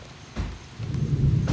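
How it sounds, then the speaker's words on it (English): Storm rain arriving, starting as a soft patter, then swelling into a heavier, rumbling downpour with low thunder-like roll, no speech heard. "Alright, here comes the rain."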